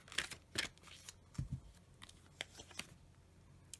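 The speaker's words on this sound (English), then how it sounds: "You can shuffle them easily like this" A deck of oracle cards shuffled by hand, a series of crisp papery riffles and flicks in short uneven bursts, close and fairly quiet, with no talking.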